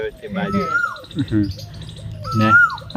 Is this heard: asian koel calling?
yes